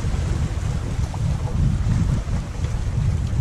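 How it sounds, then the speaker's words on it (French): Steady wind roaring across a sailboat at sea off the Île de Ré at sunrise, constant and loud with a low rushing rumble and water wash, no voices. "il y a pas mal de vent"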